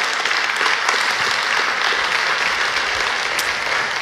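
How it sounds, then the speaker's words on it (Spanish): Steady, dense applause from a large audience at a Marcos Witt talk, loud and continuous throughout with no speech over it. "Gracias por ese aplauso"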